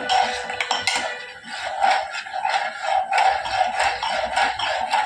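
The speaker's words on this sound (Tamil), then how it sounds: "கிண்டிக்கிட்டே இருங்க, அப்பதான் அடி பிடிக்காது" Sugar being stirred in a cooking pot on the stove, with a spoon repeatedly scraping and clinking against the metal in a busy, close, continuous rhythm.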